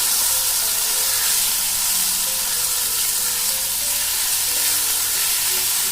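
Grated tomato, ginger and garlic with onion and turmeric sautéing in oil in a pan, giving a steady, loud, continuous sizzle and hiss with no pauses throughout.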